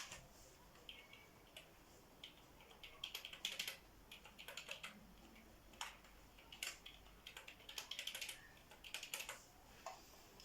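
A password is tapped out on a computer keyboard while setting up a Raspberry Pi, giving quiet, close clicks in uneven bursts against a soft background hiss.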